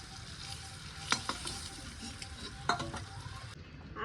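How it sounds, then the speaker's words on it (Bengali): Eggs seasoned with salt and turmeric sizzle steadily in a frying pan, with a few sharp scraping clinks of a utensil stirring against the pan. "হালকা করে ডিমগুলো ভেজে নিছি"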